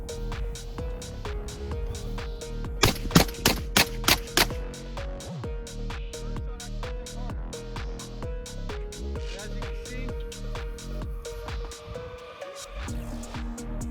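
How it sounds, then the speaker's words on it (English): Suppressed shotgun firing 3-inch birdshot shells through a JK Armament SGX suppressor: a quick string of about six sharp, close reports packed into two seconds, set over a steady tonal background hum. "It handles buck, slugs, birdshot. You can shoot anything through this suppressor."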